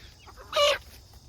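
A single short cluck from a meat chicken, one of a large flock of bred broiler birds, brief and fairly close against a quiet background.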